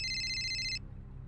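An electronic telephone ringtone trills steadily and fairly loud in a home, then cuts off abruptly after under a second, leaving a low room hum.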